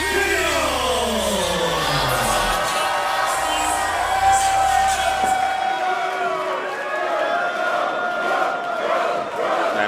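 A packed New Japan Pro Wrestling crowd roars and cheers continuously at a live event, with loud, sustained crowd noise, shouts and whoops throughout.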